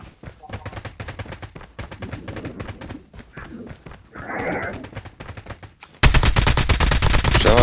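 Rapid gunfire from the video game Prop Hunt rattles out in repeated close bursts of sharp shots, growing louder and denser near the end, with faint voices underneath.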